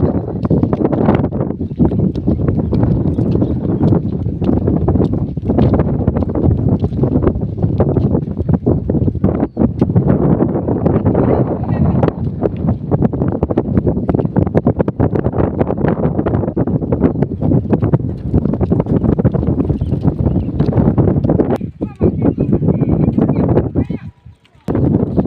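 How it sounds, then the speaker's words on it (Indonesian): A gentle breeze blows at the Krisak dam in Wonogiri, its wind rushing loud and close across the microphone in a steady, unbroken wash for nearly the whole stretch. "Suara angin yang semilir sangat"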